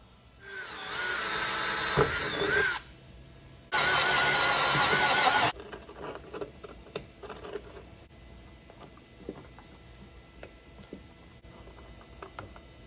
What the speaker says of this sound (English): I can go ahead and start drilling the holes that I'm going to use for the threaded inserts